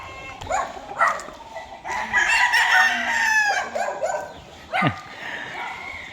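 A rooster crows loudly and close in a long drawn-out call amid other chickens clucking, with a dog barking briefly nearby.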